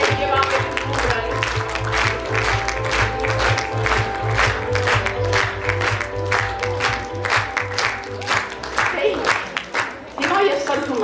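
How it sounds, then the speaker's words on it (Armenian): An audience at a festival opening ceremony claps steadily for students, a sustained close wave of applause with a voice speaking over it. "Ծափահարենք մեր ուսանողներին, ավելի ջեր և ավելի ուղր։"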